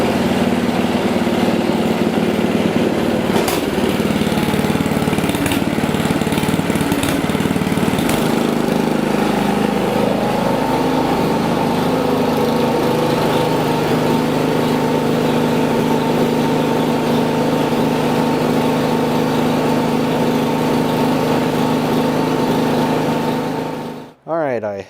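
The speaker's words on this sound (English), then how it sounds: "engage the auger and break in the belts for 15 minutes" An Ariens 24-inch Deluxe snowblower runs with its auger engaged while its new belts break in, giving a loud, close, continuous small-engine drone that holds steady for the whole stretch before stopping suddenly at the end.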